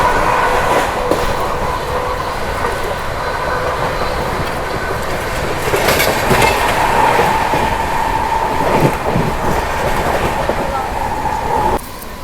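The 12368 Vikramshila Express runs at speed near Fatehpur railway station, a loud continuous roar of rolling coaches with rhythmic clickety-clack and a sustained wheel squeal.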